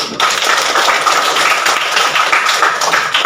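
Students in a classroom clap their hands together, a steady, loud wash of many overlapping claps sustained for a few seconds after a short silent start.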